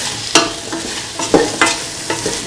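Fried rice with mung beans and ivy gourd being stirred and mixed in a hot pan, with a faint sizzle under several distinct scraping strokes spread across a couple of seconds, no voices.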